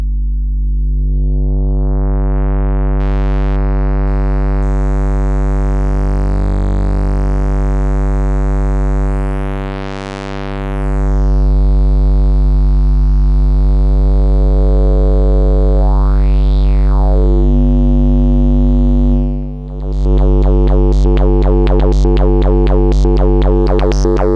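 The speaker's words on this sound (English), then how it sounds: "Let's listen to how this new distortion can sound." An Arturia Pure SUB synthesizer's buzzy tone holds steady while its harmonics warp and sweep, with whooshing filter swoops and a harsh, gritty distorted burst near the end.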